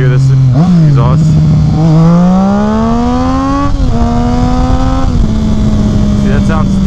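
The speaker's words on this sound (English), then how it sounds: "Alright, y'all want to hear this exhaust?" A Triumph Street Triple with a Two Brothers S1R exhaust revs loudly nearby, pitch climbing and dropping through several throttle blips with a rough, rasping note, while a person talks over it.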